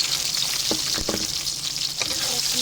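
Onions fry in hot oil with a steady, loud sizzle, broken by a few sharp scrapes and taps from stirring.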